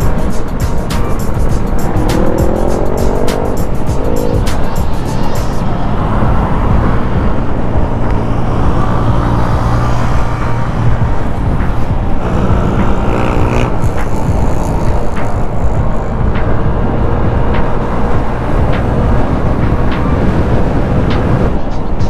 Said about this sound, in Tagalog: talalakas ng mga motor ng kasama natin